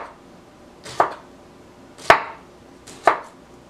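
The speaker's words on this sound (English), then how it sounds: "I just trim the edge off like I did for the roasted sprouts, chop them in half again, and give them a quick, thin" A knife slices Brussels sprouts thinly on a cutting board, three crisp, separate chops about a second apart, close and clear against a quiet background.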